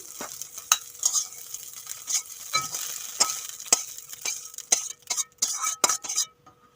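Fried eggs sizzle in a pan with a steady hiss while a utensil scrapes and clinks repeatedly as they are lifted out, the sharp metallic taps irregular and close.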